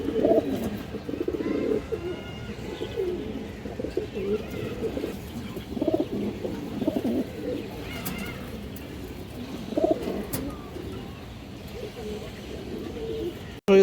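Gorra pigeons, including a big female kept in a pigeon loft for sale, coo in repeated low throaty phrases close by, with faint chirps from other birds and steady background noise throughout.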